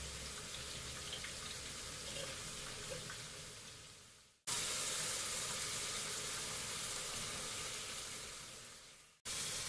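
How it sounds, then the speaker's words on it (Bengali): Sliced onions fry to crisp brown beresta in a pan over medium heat beside browning meat, making a loud, steady, close sizzling hiss that cuts off abruptly twice and resumes. "এক পাশে আমার মাংস কষাচ্ছি, আর এক পাশে আমি পেঁয়াজ বেরেস্তা করে নেব।"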